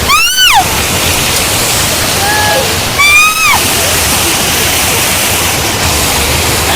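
Village lake water spilling over the weir in Nellore, a loud, steady rushing roar close by, with a couple of brief whistle-like calls rising above it.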